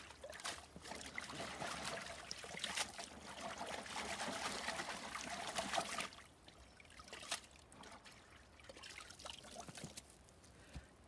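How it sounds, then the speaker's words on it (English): A Lysimachia punctata plant is lowered into water in a French garden, giving a soft, steady trickle and dribble of water that stays close and quiet throughout, with no voices. "Let me just put it in the water."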